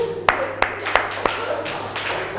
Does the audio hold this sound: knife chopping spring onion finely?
no